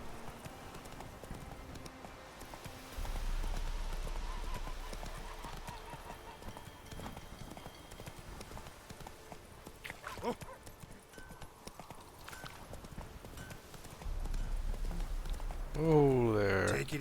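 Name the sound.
horse galloping hooves in video game The Witcher 3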